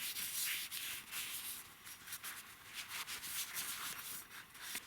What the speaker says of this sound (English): you want to wipe this up until it's spotless